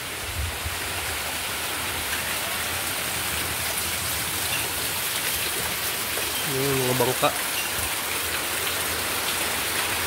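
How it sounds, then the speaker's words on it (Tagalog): Heavy rain pours during a typhoon with gusting wind, a dense loud steady roar of drops on surfaces; someone speaks briefly partway through over the downpour. "sobrang lakas po ng ulan"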